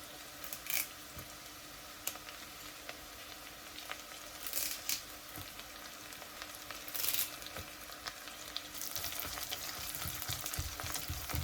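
Green chilies and curry leaves frying in a pan for a pressure-cooker lemon pickle, a soft steady sizzle with scattered sharp crackles and pops, faint and close with no talk.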